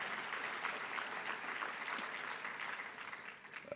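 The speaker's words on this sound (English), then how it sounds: "We can clap for that" Steady audience applause fills a conference hall at a climate leadership plenary, dense and even throughout, tapering slightly near the end.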